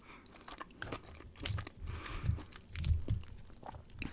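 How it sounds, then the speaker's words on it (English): Close, soft mouth sounds of someone chewing and biting into Chipotle food, with crunchy bites repeating every second or so and rising to louder chews toward the end of a mukbang-style eating session. "I apologize if you do not like mouth sounds, eating sounds."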